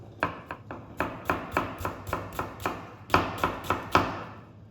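A knife chops an onion on a cutting board in a quick, steady series of crisp taps, close by, pausing briefly midway before another run of chops.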